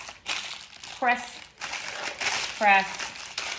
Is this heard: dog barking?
no